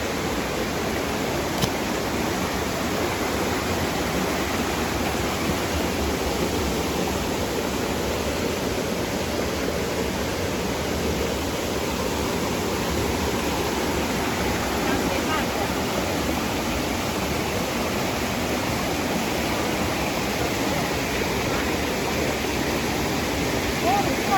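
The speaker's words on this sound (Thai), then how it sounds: "ลงมาถึงก็จะเป็นน้ำตกเล็กๆแบบนี้เลย" A small waterfall in a forest stream near a Red Karen village pours in a steady, close, broadband rush of falling water that continues without a break.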